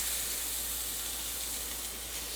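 Ahi tuna searing on a hot surface makes a continuous, fairly quiet hiss, steady and close with no breaks.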